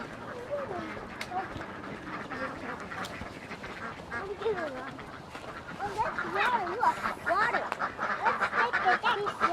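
Ducks quack repeatedly nearby, a busy chorus of nasal calls that grows louder toward the end, with people talking over them.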